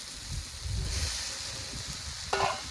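Shredded cabbage and pre-fried soybean chunks sizzle softly in a pan while being stirred, a faint continuous hiss broken by a short metallic clink of the spatula toward the end.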